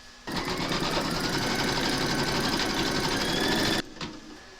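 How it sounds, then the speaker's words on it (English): A computerized embroidery machine stitches a placement outline for a large maple leaf applique, a fast, even mechanical whirr and rattle running steadily for about three and a half seconds before stopping. "you're going to stitch round number 1, and that's going to give you a placement outline for your batting"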